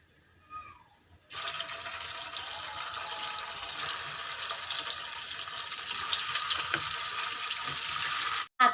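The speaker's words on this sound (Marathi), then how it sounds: "आता आपले तिकडे मेंदू वडे जोपर्यंत डीप फ्राय होत आहेत" Medu vada deep-fry in hot oil, giving a steady broad hiss and bubbling that starts abruptly after a quiet moment and keeps going, swelling slightly near the end before cutting off.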